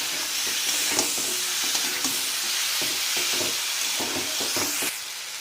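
Onion stalks, sweet potato and tomato are stirred in a pan over medium flame, a steady close sizzle punctuated by rhythmic spatula scrapes that eases off at the end.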